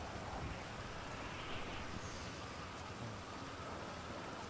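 Steady in-game rainfall in Grand Theft Auto V on an autumn morning, a soft, continuous hiss of rain on surfaces, quiet and unbroken, with no voices.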